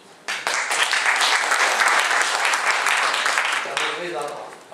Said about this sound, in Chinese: 再次给这个教授鼓掌一下